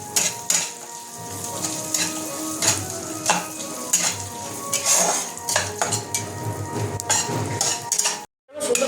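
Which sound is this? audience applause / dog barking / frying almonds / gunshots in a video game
frying almonds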